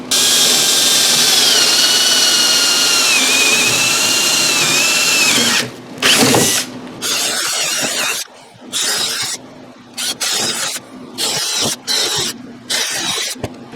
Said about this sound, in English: we're supposed to drill ventilation holes in the front and middle board, and so I've come down 3 inches